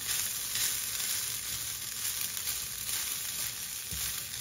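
A hot dog and onions fry in a pan for a Filipino breakfast, giving a steady, close, bright sizzle that holds evenly throughout with no talking.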